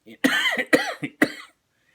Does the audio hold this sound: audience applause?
no